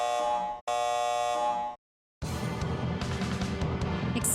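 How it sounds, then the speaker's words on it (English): An electronic alarm system activates in the video game Star Ocean First Departure R, with two sustained buzzing tones broken by a short gap and then silence before a denser, noisier alarm texture continues. "Warning. Activating alarm system."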